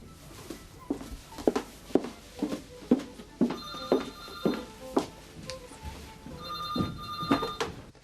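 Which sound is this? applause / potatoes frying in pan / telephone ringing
telephone ringing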